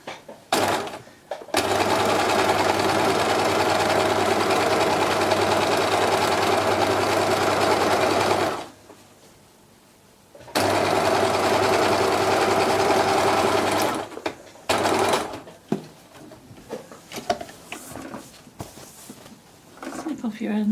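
A sewing machine stitches a beach bag in long continuous runs, loud and steady with a low hum, pausing briefly around the middle before resuming, then breaking into shorter bursts and handling clatter toward the end.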